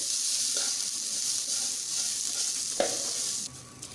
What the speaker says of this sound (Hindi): मैंने सवैयों को फ्राई कर लिया है अच्छे तरीके से